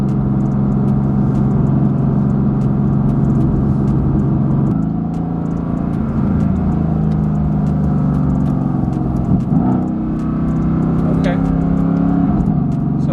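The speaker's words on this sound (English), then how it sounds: "Automatically downshifted into first." A Mercedes-AMG GT S Edition One engine drones steadily from inside the car, then its tone drops at a downshift partway through. A person talks over the engine for much of the time.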